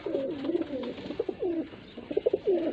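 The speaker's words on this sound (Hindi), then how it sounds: "माशाल्लाह कबूतर" Several pigeons of the Faisalabad breed coo near at hand in soft, repeated throaty rolls. Their calls are fairly quiet and no one talks over them.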